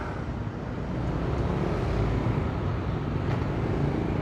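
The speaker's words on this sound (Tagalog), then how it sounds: "Sobrang traffic." Heavy traffic on a congested city road in Valenzuela heard from a ride along it, a low constant rumble of engines and tires with occasional faint passing vehicles, steady and moderately quiet.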